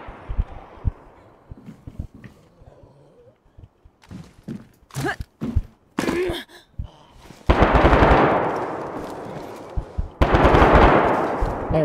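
Bursts of automatic gunfire and single shots in the DayZ video game ring out amid sparse sounds, with dense, loud rattling volleys later on and no talking.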